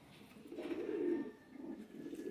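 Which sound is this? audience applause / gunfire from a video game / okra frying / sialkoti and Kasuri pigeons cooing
sialkoti and Kasuri pigeons cooing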